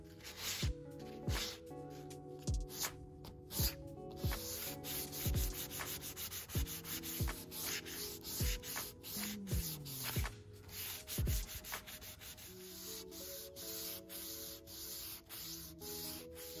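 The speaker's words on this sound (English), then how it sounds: "To get rid of some of these pesky edges, I went up with my sandpaper and this just flaked right off." Sandpaper is worked by hand along the edges of a veneered wooden furniture piece, a steady series of close, scratchy rubbing strokes over soft background music.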